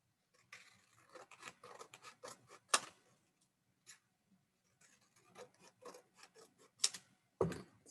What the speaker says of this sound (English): And now I can just cut them in between each one.